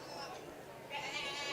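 A goat bleats at a county fair goat show, a faint wavering cry rising near the middle and continuing under a low, busy background of arena noise and speech.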